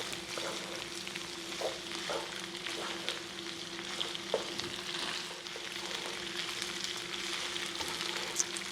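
A big batch of leftover pizza pasta bake being stirred in a nearly overfull pan, steady sizzling and frying under occasional soft spoon scrapes, close and continuous.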